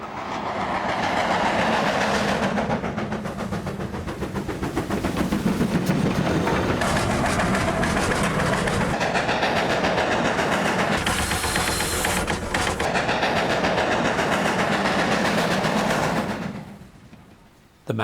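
A Great Western Railway steam express locomotive rumbles along steadily with rhythmic clattering and a hissing wash, loud and continuous, before fading out near the end.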